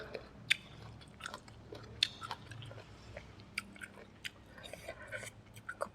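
Someone crunches on green mango dipped in sweet fish sauce, sharp crisp bites and wet chewing close to the mic. The bites come at irregular intervals and sound fairly faint against a quiet room.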